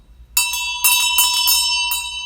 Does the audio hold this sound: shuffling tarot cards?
no